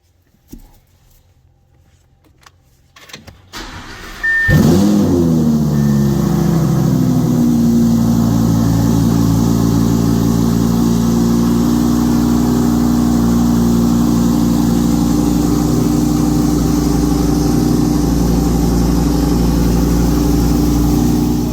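Car engine starting after a few quiet seconds and faint clicks, then settling into a loud, steady idle that holds to the end, with no talking.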